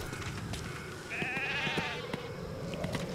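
Sheep bleating in the video game Metal Gear Solid V, a single wavering bleat rising clearly over low game ambience and soft thuds, mid-distance and moderately loud.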